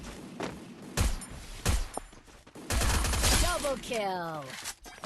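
Gunfire from a bot in a shooter video game: sharp, close shots and rapid bursts crack in clusters amid whooshing and chirping effects, with a player talking over the action.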